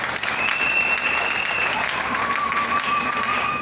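A crowd at a French-language ceremony applauds loudly when called on to acclaim honoured guests, dense steady clapping and a few whistles filling the whole stretch at close range.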